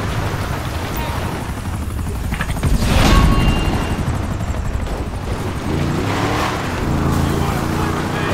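A helicopter's steady rotor drone and engine whir in GTA 5 Online, loud and continuous, swelling briefly in the middle, with a synthetic game-like quality.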